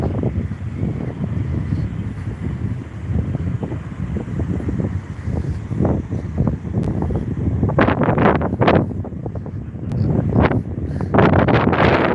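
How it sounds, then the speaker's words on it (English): Wind buffets a microphone in a steady low rumble, with sharper bursts of gusty noise toward the end; no talking. "A nice gust of wind is hitting me."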